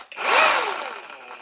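HERCULES 20-volt brushless variable-speed reciprocating saw running, a whining motor that spins up quickly, holds a high buzzing pitch, then gradually winds down, close and loud with no talk.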